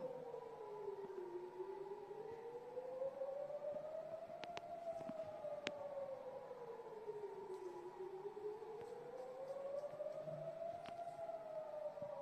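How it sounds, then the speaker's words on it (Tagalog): Civil defense siren wailing steadily in slow rising and falling sweeps, loud and continuous as it carries over the surroundings during bombing, with a few faint clicks and knocks beneath it. "May sirena."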